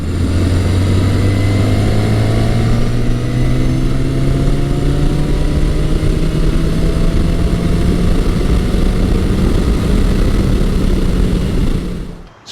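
A carbureted 1980 Yamaha XS 1100 Special motorcycle engine runs steadily and loud, its pitch rising gradually as it revs up, with no talk, then cuts off abruptly at the end.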